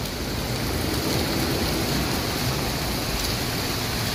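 Rain falls hard and continuously across a big infrastructure project area, a loud, even roar of drops on surrounding surfaces with no talking heard.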